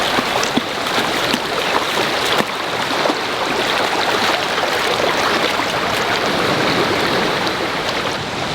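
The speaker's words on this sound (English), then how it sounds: "and that's the creek" Loud rushing creek near the road to Birkenhead Provincial Park, a dense, constant roar of flowing water filling the whole stretch, close and unbroken with no voices.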